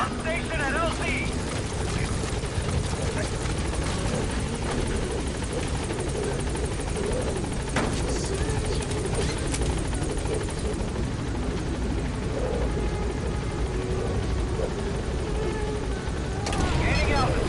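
Pequod helicopter hovering at a landing zone in Metal Gear Solid V, a dense, continuous rotor and engine thrum, steady and close, with voices talking over it.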